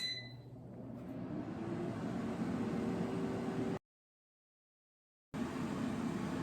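An air fryer set to 400 degrees Fahrenheit runs with a steady fan whoosh and broadband hiss, broken by a short silent gap before the hum resumes.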